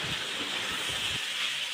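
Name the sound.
squid with masala being sautéed in a pan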